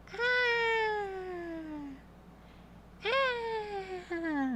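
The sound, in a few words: cat meowing after being sprayed with water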